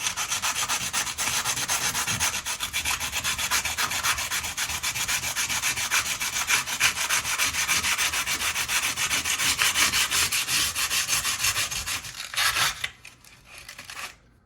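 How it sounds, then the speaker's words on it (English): Rapid, steady rasping of a sanding block with used 120-grit paper scrubbed back and forth against kitchen backsplash tile grout, close and continuous, stopping near the end. "I have some used 120 grit and then this like sanding block."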